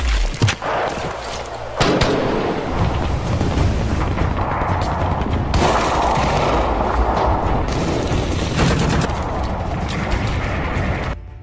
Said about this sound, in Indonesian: dalam hitungan ketiga mereka pun melesatkan peluru bersama-sama